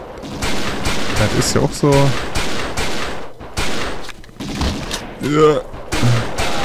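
Pistol fire in the video game XIII comes as a few sharp, loud shots spaced irregularly, mixed with game effects while someone talks over them in German.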